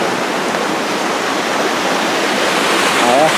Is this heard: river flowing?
yes